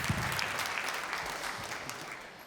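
A comedy club audience applauds a stand-up comic, steady dense clapping from many hands that holds throughout and eases slightly toward the end, with no talk over it.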